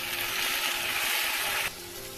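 Tomatoes drop into a pan of green chillies and spices frying in hot oil for chhole tikiya chaat, a loud, dense sizzle that drops sharply to a quieter fizz near the end, with no talking.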